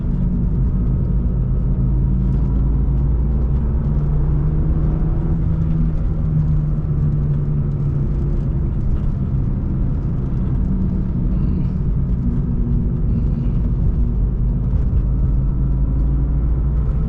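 A 1997 BMW E36 M3's engine rumbles low and steady through its stock exhaust, a deep continuous drone with slight swells in pitch, heard from close by.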